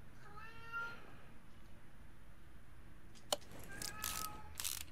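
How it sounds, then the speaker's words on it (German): A domestic cat meows a few times, wanting to be let outside, with faint background noise and a couple of sharp clicks in between. "Ich muss mal kurz die Katze rauslassen."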